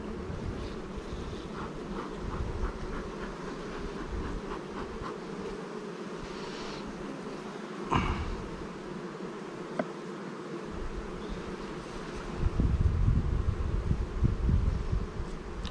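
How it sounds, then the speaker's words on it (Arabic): Honey bees buzz at an open hive in an apiary, a continuous close drone with occasional louder passes and a rustling swell near the end, and no one speaks. "نحل صار يجمع."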